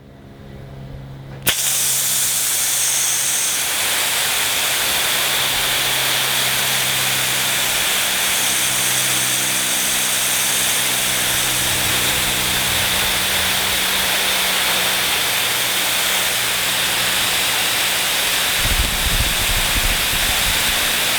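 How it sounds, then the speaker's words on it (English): A high-flow residential fire hose nozzle opened to full throttle for a distance test, giving a loud, steady roar of spraying water that starts abruptly and holds constant with no voices. "Now we're going to test the high flow full throttle nozzle, going for distance first."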